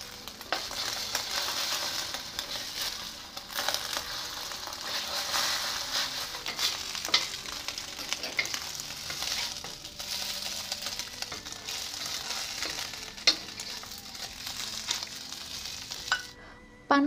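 Rice vermicelli (bihun goreng) is stir-fried in a pan, giving a continuous close sizzle with scraping, tossing stirs throughout, steady in level until it cuts off at the end; no one speaks.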